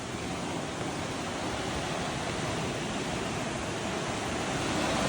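Black Sea waves rolling onto the shore at Kurortne in the Odesa region, a steady, dense wash of surf noise filling the whole stretch without breaks or voices.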